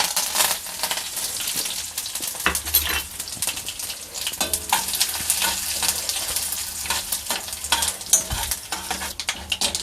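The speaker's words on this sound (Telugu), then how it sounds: "నూనె కాగింది కదండి, ఇప్పుడు మనం ఈ తాలింపు ఇందులో వేసేసుకుందాం." Tempering spices fry and sizzle steadily in hot oil in a small pan for mint chutney, with stirring scrapes and occasional clinks, loud and close, no voices.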